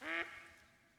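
A single duck quack in TheHunter: Call of the Wild, one short, nasal call that is quiet and clear, followed by a fading tail and no other sound.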